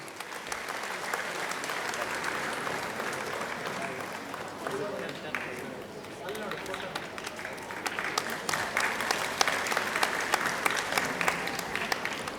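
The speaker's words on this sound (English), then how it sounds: "Please give her a big round of applause." Steady applause from a school annual day audience greeting a young Star Kid Award winner, a dense wash of many hands clapping that holds for the whole stretch and swells slightly toward the end, with faint voices mixed in.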